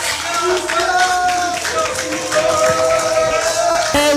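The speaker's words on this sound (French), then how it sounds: "On peut l'applaudir très fort." A radio quiz studio audience claps briefly, the scattered claps mixed with loud overlapping voices and a tonal sound, all fairly close and busy.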